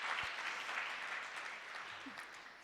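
An audience applauds to welcome a speaker at a Gurukul gathering, a dense, steady clatter of many hands clapping together that tapers slightly toward the end.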